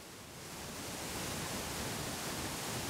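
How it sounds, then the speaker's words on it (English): A steady, dense rush of the 77-foot waterfall at Natural Falls State Park fills the air, swelling in over the first second and then holding constant, broad and unbroken. "the cool thing about the waterfall here at Natural Falls State Park is that you can hear it"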